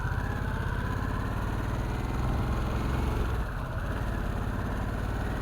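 Steady, loud wind rush on a helmet-mounted microphone with the face mask open while riding a motorcycle, a constant broadband roar with low engine rumble beneath, unbroken throughout and no talking.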